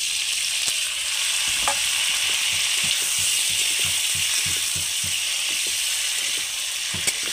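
Tomatoes and green chillies dropped into a pan of lightly browned onions fry with a steady, close hiss and sizzle, while a spatula scrapes and stirs in repeated rhythmic strokes throughout.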